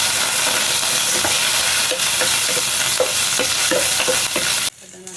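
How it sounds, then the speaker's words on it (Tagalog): Onion and ginger sauté in a pan for chicken soup, a loud close frying hiss with repeated spatula scrapes and taps against the pan, ending abruptly in near quiet. "So isusuti ko na yung sibuyas at luya."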